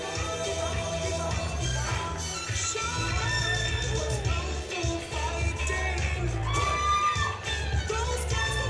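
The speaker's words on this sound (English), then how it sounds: "Big round of applause for our winner," A crowd at a men's rookie bodybuilding contest yells, whoops and cheers for the winner, a loud, sustained roar with shouts rising over it throughout.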